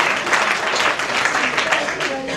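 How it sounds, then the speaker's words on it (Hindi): Audience applause at a Hindi kavi sammelan (poetry gathering) for a comic poem, a dense, steady wash of many hands clapping that runs through the whole moment, with voices mixed in. "जोरदार तालियां बजाओ।"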